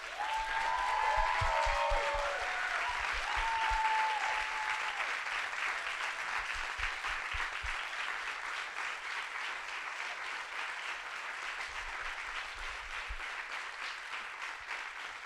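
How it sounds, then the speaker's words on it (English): An audience applauds storytellers at a university politics institute storytelling event, a long, even wave of clapping with a few low thumps near the start that fades slowly toward the end. "join me in one more round of applause for these 9 beautiful humans"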